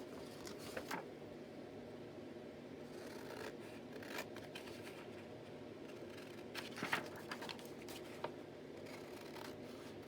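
Scissors cutting out paper for a collage page, quiet crisp snips and clicks in irregular bursts over soft rustling, close and faint.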